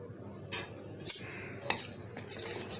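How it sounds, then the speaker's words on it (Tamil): A spoon mixing ghee into sifted gram flour in a bowl for Mysore pak gives a few light, close metallic clinks and scrapes at irregular intervals over a quiet background. "இப்போ இதில் நெய் ஊற்றி நல்லா கலந்து வச்சுக்கலாம்"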